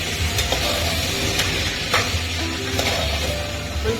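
Chopped potatoes fry and sizzle steadily in a pan for a spicy sambar, a dense continuous crackle with occasional stirring scrapes throughout, close and fairly loud with no talking.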